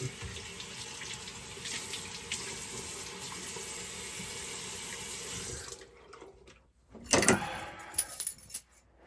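Water from a tap runs steadily as a safety razor is rinsed beneath it, then the flow stops and a few short metallic clinks and splashes follow near the sink.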